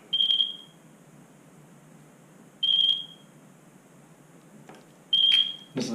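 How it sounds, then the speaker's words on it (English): An electronic device emits three short, high-pitched beeps spaced a few seconds apart over a quiet background hum. "I hate that beeping"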